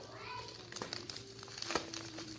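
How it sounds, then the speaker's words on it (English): Plastic wrap crinkling as it is peeled off a new iPad 6th Gen Space Grey box, close continuous rustling with a few sharper crackles and soft voices in the background. "let's unwrap the plastic"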